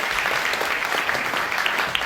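A lecture audience at a science talk by the POSTECH president gives a full, continuous round of applause to welcome the speaker. The clapping is even and sustained throughout, with a few sharper claps standing out near the end.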